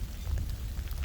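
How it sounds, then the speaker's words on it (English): Steady rain patters outdoors as a storm front moves in, a dense, close hiss of drops on surfaces with no voices. "Yes, I am out here in the rain."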